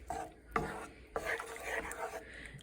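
A spoon scrapes and rubs through chicken marsala sauce seasoned with paprika in a pan, a few close, soft stirring strokes with light knocks against the cookware.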